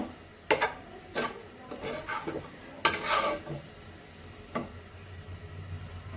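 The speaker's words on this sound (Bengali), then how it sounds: "আর এদিকে ভাজি বানাচ্ছি যে" Vegetable bhaji cooking in a pan, a low sizzle under several scraping strokes and knocks of a spoon stirring against the metal, fairly close and quiet.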